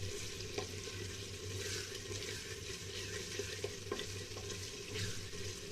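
Garlic frying in oil in a pan for mutton kunna, a faint, steady, low sizzle with occasional soft clicks of a spoon stirring, close by with no talking.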